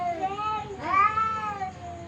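A pet cat meows twice, drawn-out wavering cries close by, the second louder and rising, with faint background noise.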